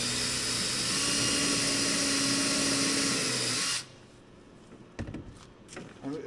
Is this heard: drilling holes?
yes